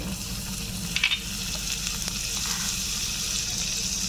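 Chopped garlic tempering in a little hot oil, a steady close sizzle with a brief crackling flare near the start and a few soft stirring knocks.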